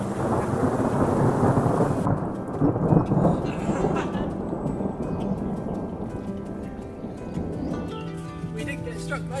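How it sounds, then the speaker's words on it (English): A thunderstorm with heavy rain at Lake Garda: a loud, close thunder rumble rolls over steady rain, then fades into a quieter patter with light background sounds. "That thunder is right above us."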